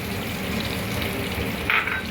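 Two green chillies frying in a pan while egg biryani is being made, giving off a steady close sizzle that keeps an even level throughout, with a brief brighter crackle near the end.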